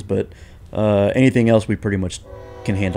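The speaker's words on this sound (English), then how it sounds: "We have a train that's right behind us directly." A freight or passenger train rumbles past close behind a truck washing lot, its horn blaring in long sustained tonal blasts that overlap and rise above someone talking.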